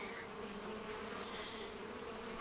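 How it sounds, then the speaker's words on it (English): Honey bees swarm around an open beehive during an inspection, a dense, steady buzzing close by that fills the whole stretch, with no talking over it. "Let these bees get back to whatever it is they do, and give them a break, because they're not liking me in here right now at all."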